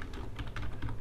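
Rapid keystrokes on a computer keyboard while entering text in 3ds Max, a quick, even run of close clicks lasting about a second with no voices.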